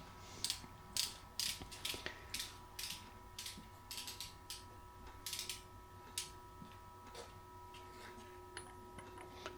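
Ratchet socket set clicking in quick bursts while working on the fork heads of a motorcycle during a Progressive fork spring upgrade, close and fairly quiet, with a faint steady hum underneath and no talk.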